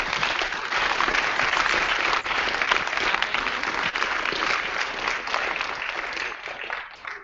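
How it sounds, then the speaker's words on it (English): Audience applause for a panel of speakers at the close of a conversation, a dense, steady wash of many hands clapping that holds for several seconds and fades slightly near the end. "Go ahead and give them a round of applause."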